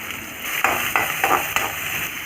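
Onions sautéing in hot oil with mustard seeds, cumin and curry leaves for a lunch box rice dish, a bright steady sizzle punctuated by several scraping stirs of a spoon in the pan.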